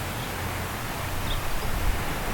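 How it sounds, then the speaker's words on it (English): Steady broadband wash of ocean waves on an outdoor shore, a soft continuous roar with gentle swells and no distinct individual breakers, heard close and alone during a quiet yoga stretch session. "if you can hear the ocean sound behind me, the waves"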